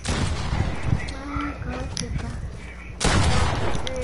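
Gunfire in a video game: sharp shots and bursts fire repeatedly, with a louder volley near the end, while players talk excitedly over the shooting.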